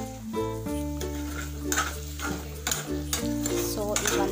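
Eggs sizzle and fry in a pan with Maggi noodles while a utensil steadily stirs and scrapes, close and continuous, with occasional clinks against the pan.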